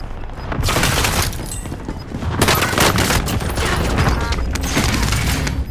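Dense, sustained gunfire from a battle royale video game fight, with rapid bursts and heavy booms packed together, loud and continuous throughout with no pauses.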